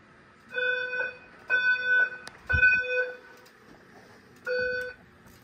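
A Simplex voice evacuation alarm sounds in a building, four bursts of a loud electronic tone with layered harmonics, steady and spaced about a second apart, with no speech over it.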